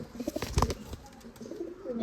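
Pigeons coo softly in short bursts nearby, with faint rustling in the background.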